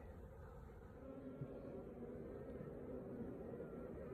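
Honey bees drone around a poly nuc holding a small rescued swarm in an apiary, a faint, steady buzz with no voices.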